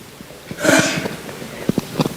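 A single sneeze bursts out, sharp and close, during a youth competition award ceremony in Toronto, followed by a few faint sniffs and quiet movement.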